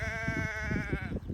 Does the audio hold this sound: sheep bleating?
yes